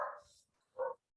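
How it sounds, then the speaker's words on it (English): Dogs barking from a back room behind a closed door during an online family meeting, two short bark bursts about half a second apart, fairly close, with no talk over them. "I apologize for my dogs barking if they are in the back."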